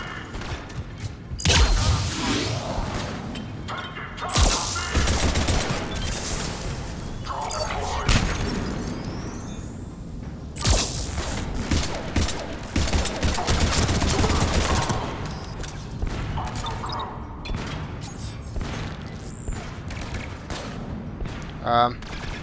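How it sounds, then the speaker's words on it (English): Constant gunfire and explosive booms from the video game Mass Effect 3 during combat with blind firing, loud dense bursts with shattering impacts running through the whole stretch. "I'm just firing blindly."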